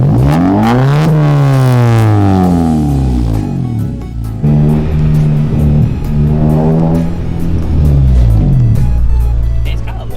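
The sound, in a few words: tuned Honda Civic Si engine revving with pops and crackles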